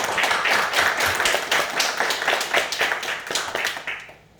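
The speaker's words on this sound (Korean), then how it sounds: "박수로 하나님께 영광 돌리겠습니다." A church congregation applauds together, with steady, dense clapping that fills the space at close range, holding strong and then tapering off near the end with no talk over it.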